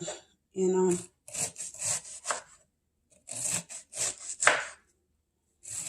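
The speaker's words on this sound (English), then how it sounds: "So I'm slicing this up" A knife slices through food at home in several separate bursts of short, rasping, sawing strokes, close and moderately loud, with brief pauses between them.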